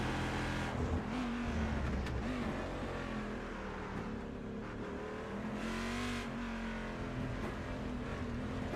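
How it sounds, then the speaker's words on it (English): On-board engine of a GT Masters race car lapping Interlagos through the slow turns 9 and 10, a loud, continuous engine drone rising and falling with throttle and gear changes, heard close and alone. "We stay on board with Liam coming through turn 9 up to turn 10"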